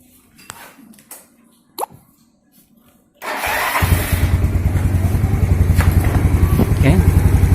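Motor scooter with an automatic CVT transmission and a freshly replaced carbon kevlar clutch lining starts after a few quiet clicks, catching into a steady, loud idle that keeps running close by.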